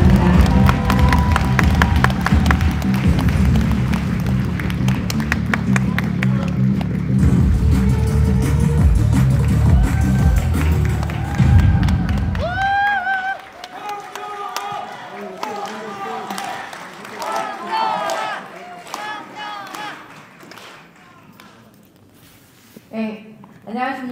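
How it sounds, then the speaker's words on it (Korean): Crowd at a Democratic Party political rally concert in Daejeon welcoming a newly recruited candidate, with loud, dense applause and cheering filling the first half before fading into scattered claps and quieter room sounds. "큰 박수와 함성으로 맞아주시기 바랍니다."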